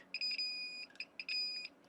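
A multimeter's continuity beep sounds while a Pioneer GM-X904 car amplifier is probed during repair, two short bursts of high steady tone, brief and clean against a quiet background.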